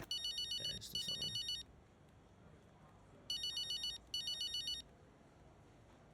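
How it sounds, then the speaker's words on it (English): A telephone rings in the F1 25 racing video game, two bursts of rapid electronic trilling separated by a short pause, loud and clear over a faint background. "There's the phone."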